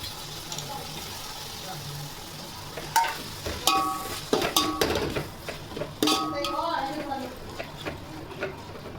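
Tomatoes sizzle in a pan while a metal spatula stirs and scrapes, giving a series of clanks and clinks over a steady frying hiss, with quiet talk in the background.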